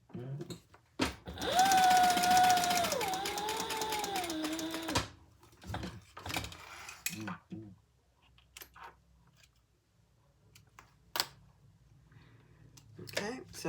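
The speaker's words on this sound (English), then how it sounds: "Then we're going to sew along that line and then down the side 1/8 of an inch." A sewing machine runs steadily for about three seconds as it stitches a seam 1/8 inch from the edge of a small crossbody bag, followed by quieter handling clicks and brief talk.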